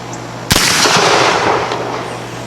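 A single sharp gunshot from a St. Louis Hawken kit rifle, loud and close, followed by a rolling echo that fades over about two seconds.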